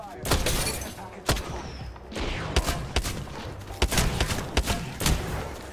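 Gunfire in the shooter game Apex Legends comes as rapid bursts of loud, sharp shots with thuds and impacts, clustered heavily through the stretch, mixed with faint in-game voices.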